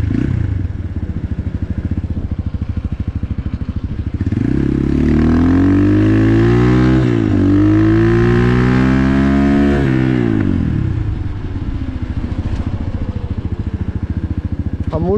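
A Diabolini MMR 250 cross motorcycle being ridden, its engine loud and close throughout, revving up in rising and falling sweeps through the middle before settling back to a rough, steady run.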